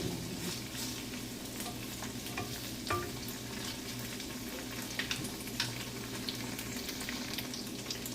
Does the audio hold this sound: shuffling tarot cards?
no